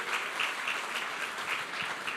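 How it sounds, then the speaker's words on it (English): An audience applauds continuously at a church event, a steady even wash of many hands clapping, moderately distant and fairly quiet, with no voices over it. "why don't we just give a round of applause?"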